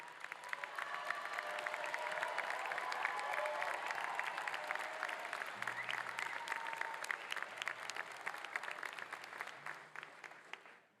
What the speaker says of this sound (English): Please stand and give them a big round of applause.